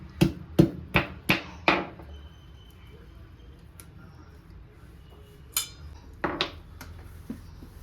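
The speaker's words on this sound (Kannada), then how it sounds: "ಈಗ ಅರಿಶಿನ ಜಜ್ಕೊಂಡಿದ್ದಾಯ್ತು" Turmeric and hard roots being pounded to crush them for a postpartum home remedy, a run of five sharp, evenly spaced knocks, then a pause and a few more scattered strikes, close and loud.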